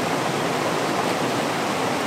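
Waterfall cascades in the Adirondack Mountains pour in a loud, continuous broadband rush, close and steady with no voices or breaks in the roar of falling water.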